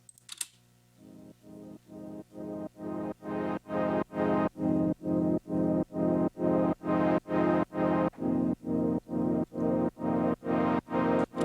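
A synth pad from a house track swells in repeated rhythmic chords, each pulse rising and cutting off in a steady, pumping pattern over about a dozen beats, loud and sustained with no talking.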